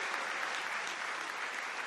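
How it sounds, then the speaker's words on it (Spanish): Applause in a church service, a steady, even roar of many hands clapping, moderately distant and without pause for the full stretch. "Dale un aplauso fuerte a Él."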